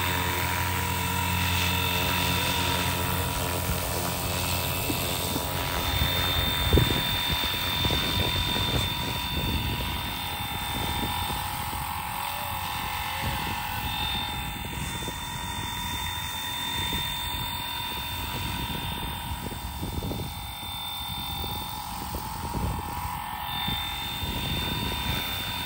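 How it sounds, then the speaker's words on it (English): A FlyWing RC helicopter with a modified, quieter tail motor hovers nearby, its main rotor making a steady whirring drone with a high whine throughout, and faint thumps and rustles underneath. "So the only thing I really could hear is the main rotor blade, not even the tail."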